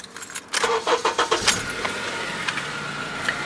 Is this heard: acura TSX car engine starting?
yes